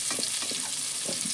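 Plantains and potatoes fry together in a pan while being stirred, with quiet rhythmic scrapes and clacks over a soft, steady sizzle.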